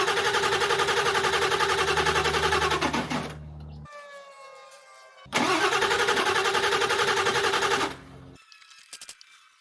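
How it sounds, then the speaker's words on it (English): A military truck engine cranks over and catches, roaring loudly and close for a few seconds before cutting out; after a pause it cranks and runs again, then stops, with a few faint knocks at the end. "probably put it back in and crank it a little bit. See if we can get it to want to fire"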